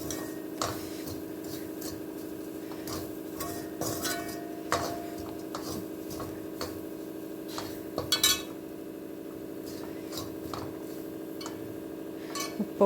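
Metal spoon stirring and scraping green beans with grated coconut in a pan, irregular clinks and taps against the metal, close and fairly quiet, with a steady background hum.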